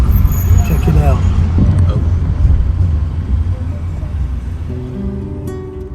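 Riding in a taxi through city traffic in Palma, a steady engine rumble and road noise fill the cabin, with passing vehicles and occasional faint voices underneath.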